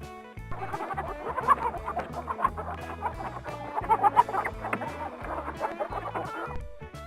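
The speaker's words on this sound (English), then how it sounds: "Chicken." A chicken clucking repeatedly in irregular bursts for several seconds, moderately loud and close, over a steady rhythmic music bed.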